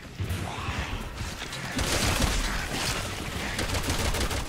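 Dense gunfire from sniper bullets in Resident Evil 6, a sustained crackling barrage of shots that grows louder midway and keeps going, with a voice briefly heard.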